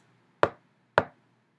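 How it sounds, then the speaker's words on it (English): Two sharp knocks on a door, spaced about half a second apart, close and clear against near silence. "he came up to the house of the children and knocked on the door twice."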